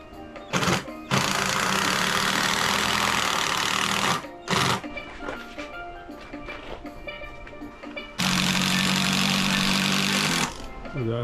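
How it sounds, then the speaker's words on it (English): Power driver sinking 4-inch screws into the ridge of a timber gable roof, two long loud whirring bursts with a shorter one between, near and steady, with quieter workshop noise in the gaps. "Now we're screwing it with some 4-inch screws."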